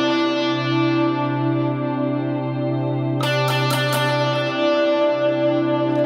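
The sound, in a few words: guitar playing an active tone over a drone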